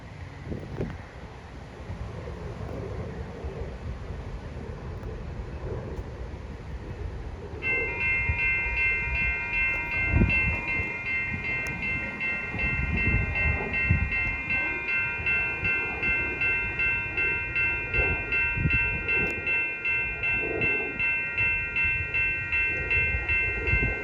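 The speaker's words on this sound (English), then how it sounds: "That's a high-volume locomotive." Metra locomotive passing by, a rumbling rush of rail noise that grows as the train nears, with a sustained multi-tone horn blaring and rhythmic wheel clatter, under wind buffeting on the microphone.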